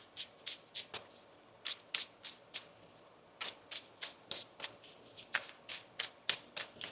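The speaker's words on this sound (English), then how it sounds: "One more shuffle here, please," Tarot cards riffle-shuffled by hand in quick repeated bursts, each a short crisp flutter of card edges, close and fairly quiet against a soft room background, with no talking.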